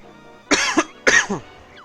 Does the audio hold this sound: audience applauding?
no